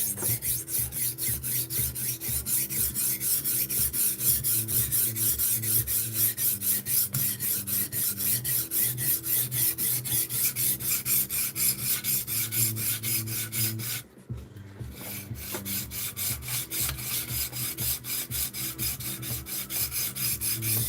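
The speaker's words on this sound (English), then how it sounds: "the 6-inch stones on the TSPROF definitely sharpen knives like this a lot faster than the KME with the 4-inch stones" A knife is sharpened on 6-inch stones with a TSPROF Kadet, making a fast, even rasping scrape of rapid back-and-forth strokes, close and continuous, with one brief pause before the strokes resume.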